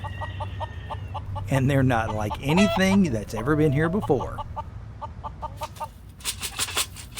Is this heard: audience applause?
no